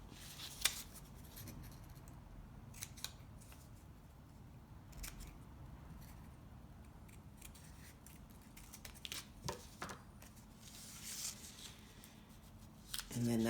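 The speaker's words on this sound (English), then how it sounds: "Cut that shape out." Scissors snipping out a paper turkey shape for a placemat, with faint, close, irregular cuts and paper rustle under quiet speech.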